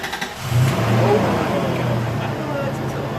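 A high-mileage car engine fires up after an AMSOIL engine flush and settles into a rough, loud idle close by, with a voice briefly counting down just before it catches.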